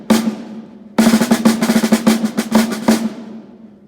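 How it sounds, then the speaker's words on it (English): A metal snare drum with buzzing snare wires, struck once, then in a quick roll of rapid hits, each with a crisp rattling buzz, close and loud with no talk, the last strokes ringing out. "That is the snare drum, and it is made of metal instead of wood"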